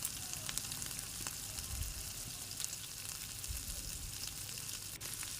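Chopped onion and garlic frying in hot oil, a soft continuous sizzle and crackle with a few faint stirring taps, fairly quiet and steady.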